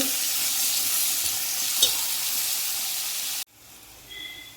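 Green brinjal frying in a pan makes a loud, steady close sizzle that hisses continuously, then cuts off abruptly near the end, leaving a quieter background.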